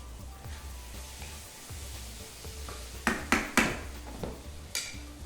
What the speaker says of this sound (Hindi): अब भुनाई करते हैं अच्छे से।